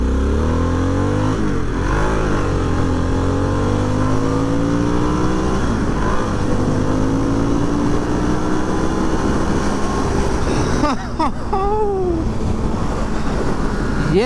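A 2022 Harley-Davidson Sportster S accelerating on a test ride, its loud engine climbing through rising pitch sweeps with shifts between them, heavy wind rush throughout, recorded close from the rider's position with no talking.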